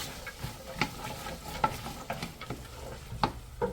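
Chopped vegetables with pepper cooking in a pot for a creamy chicken and wild rice soup, giving a soft steady sizzle broken by several sharp clinks and scrapes of a spoon stirring, close and fairly quiet with no talking.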